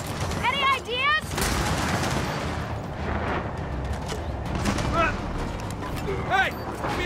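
Gunfire in the video game Gears of War 4 during an insane-difficulty co-op campaign battle, with dense bursts of shots and rumbling explosions mixed with game music and sci-fi whooshes.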